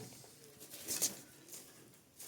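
A pigeon chick gives a brief, high, faint peeping chirp close by amid quiet rustling and soft handling noise.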